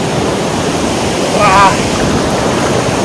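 Rushing river water fills the scene with a steady, broadband wash of flow close to the microphone. It continues without a break, with a brief voice-like sound in the middle.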